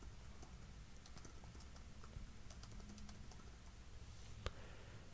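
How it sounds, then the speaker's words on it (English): Narration text being typed on a computer keyboard, a quiet, steady patter of key clicks with one sharper tap near the end, no talking. "all I have to do is simply type in the narration text"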